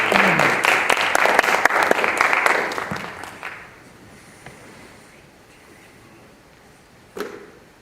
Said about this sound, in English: All right, clap.